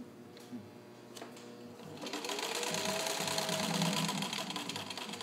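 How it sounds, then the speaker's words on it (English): A restored Singer 15-91 sewing machine fitted with a size 16 jeans needle stitches through cotton with thick seams, a steady close mechanical whirring and rapid ticking that builds after a few quiet taps and runs continuously. "I'm going to start sewing for you guys."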